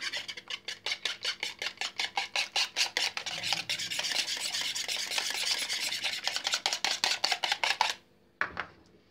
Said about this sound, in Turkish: Şimdi hemen şu yumurtamı çırpıyorum.